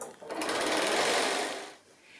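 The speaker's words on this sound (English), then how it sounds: "So now I'm just going to stitch down that line there, and then we'll need to turn it out." A sewing machine stitching a fabric tube for a Christmas stocking, one continuous close whirring run that swells and then slows near the end.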